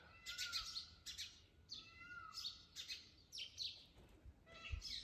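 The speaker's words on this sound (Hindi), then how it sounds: "यहाँ चारों तरफ उनकी चहचहाट सुनाई देती है।" Morning birdsong around a quiet gurudwara in Lakhpat near the India–Pakistan border, with peacocks among the birds: a faint chorus of repeated high chirps and short whistled calls in bursts, overlapping from several directions with no voices.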